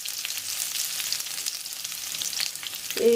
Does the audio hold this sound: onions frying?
yes